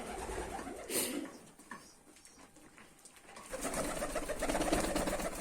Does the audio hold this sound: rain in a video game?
no